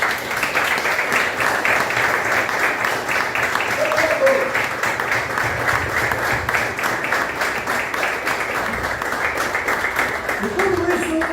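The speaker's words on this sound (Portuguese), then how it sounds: "Vamos dar uma salva de palmas ao Senhor." A church congregation claps steadily during a service, sustained applause with a few voices and vocal sounds rising over the clapping throughout.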